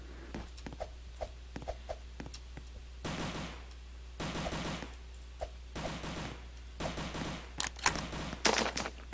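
Gunfire from a gun in the Roblox game Avert the Odds 2, a string of short, fairly faint shots at uneven intervals, with a few denser bursts of firing later on.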